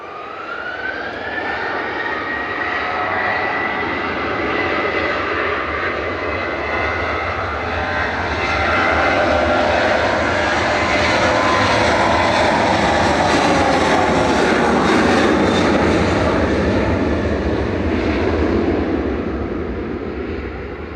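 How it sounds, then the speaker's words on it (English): A Ryanair Boeing 737-800 jet takes off from Manchester Airport, its engines roaring loudly and continuously, the rumble building and swelling toward the middle with a rising whine before easing slightly near the end. "This is Ryanair heading off to Shannon, 737-800 EIEKT flight 4776."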